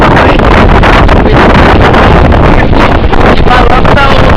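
Strong wind buffets the fabric covering of a machine, making a loud, continuous roaring rush with constant flapping turbulence and no letup.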